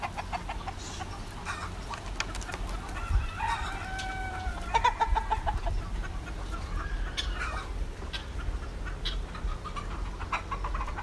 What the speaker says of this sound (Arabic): دجاج البحريني.